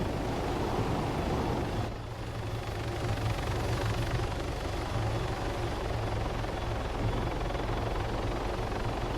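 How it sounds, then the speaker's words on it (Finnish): A helicopter flies overhead in a video game, giving a steady rotor thrum and broad engine roar that holds throughout with only a brief dip in loudness, with no talk. "Tossa on yksi kopteri"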